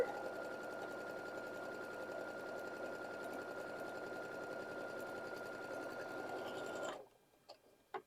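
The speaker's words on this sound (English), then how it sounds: "just sew 1/4 inch away from that line all the way down" Sewing machine stitching quilt fabric for half square triangles, a steady rapid mechanical whir and needle rattle running continuously for about seven seconds before stopping, followed by a couple of soft clicks, close and without talk.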